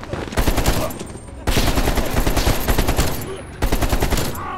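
Loud, sustained automatic gunfire in Call of Duty: Black Ops Cold War on PC, with dense rapid volleys broken by two short pauses, close and continuous throughout.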